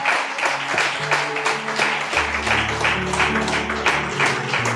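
Church congregation clapping in applause during a worship service, a steady dense patter of many hands with sustained organ or keyboard tones playing underneath.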